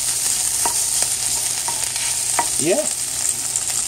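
A kale and smoked salmon scramble fries in a pan with a steady, close sizzle, broken by a few sharp scraping and stirring clicks; a voice briefly speaks near the end.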